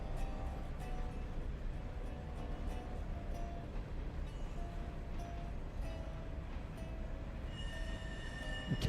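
A steam locomotive in the game Railroader rolls along steadily at a distance, its low rumble and rail noise continuous and fairly faint, with occasional tonal squeals and a brief louder hiss near the end.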